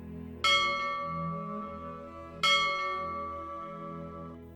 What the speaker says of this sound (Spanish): el clamor de la campana que hay en la ermita de Nuestra Señora del Moncayo